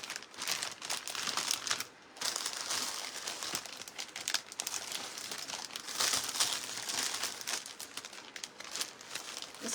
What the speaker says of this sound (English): I'm gonna use this crinkle paper to put in the bottom.